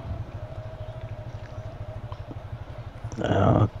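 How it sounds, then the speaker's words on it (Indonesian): A motorcycle engine roars under engine braking on a steep, rough downhill road: a steady low rumbling throb with a thin whine over it, rising into a louder rushing burst near the end. "suara motor saya menggerung karena efek dari pengereman dari mesin"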